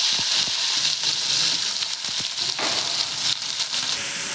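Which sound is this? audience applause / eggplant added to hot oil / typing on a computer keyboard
eggplant added to hot oil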